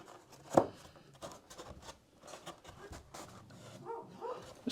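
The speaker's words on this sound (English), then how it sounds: "it sounds like I have company. Guy is barking" A dog barks a few times at a distance, one louder sharp bark standing out among quieter scattered barks and faint background knocks.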